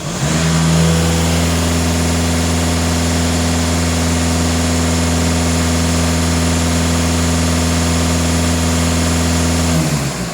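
A VW/Skoda Euro 6 diesel engine holds at steady elevated revs for about ten seconds, a loud continuous drone with strong low harmonics that rises at the start and eases off at the end, with no talk over it.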